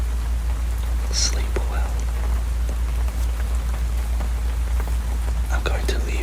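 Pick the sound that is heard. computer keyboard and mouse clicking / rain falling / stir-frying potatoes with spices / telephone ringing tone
rain falling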